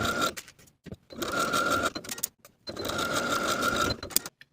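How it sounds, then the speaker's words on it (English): A sewing machine sewing facings to the bottom of a garment with a 5/8 inch seam allowance, in short bursts of fast whirring stitching broken by quick stops, close and clear. "Then I'll sew these facings to the bottom of the garment with a 5/8 inch seam allowance"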